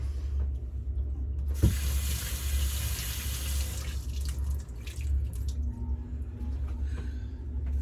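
Water running from a kitchen tap as sticky fingers are rinsed after handling chocolate cookie dough, a steady broadband rush with a brief clunk near the start, then a fainter trickle.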